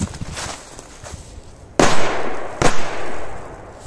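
A firecracker fuse is lit and it explodes: a sharp, loud bang rings out, followed by a second burst less than a second later, over faint background noise outdoors.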